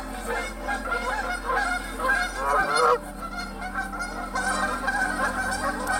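A flock of geese honk loudly by a creek, overlapping harsh calls in a continuous chorus close by, with outdoor rumble underneath.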